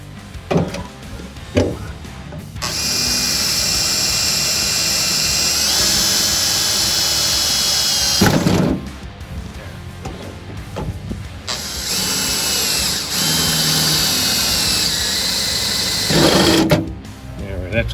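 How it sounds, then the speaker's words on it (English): A drill with a 7/32 bit bores out the rivets holding a brace to the bottom of a Ford Model A door, two long high-pitched whining runs, loud and close, with talking and handling noises between them. "Using a 7/32 drill bit, we drilled out both rivets and freed the brace from the bottom of the door."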